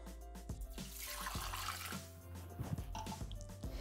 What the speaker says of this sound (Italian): Senza lavare il boccale, mettere l'acqua